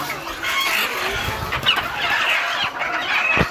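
Chickens clucking and squawking as they are pulled from transport cages on a poultry farm, a dense, agitated flock chorus close by with a few sharper cries.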